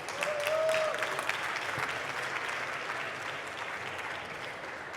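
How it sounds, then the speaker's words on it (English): Audience applause at a festival startup pitch event as the next presenter is introduced, a dense even patter of many clapping hands that swells early and then slowly tapers. "Please give her a warm applause"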